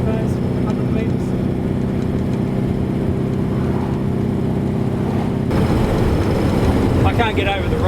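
A Bedford TK truck drives along, its engine a loud, steady drone mixed with wind and road noise throughout, and a voice speaks over it.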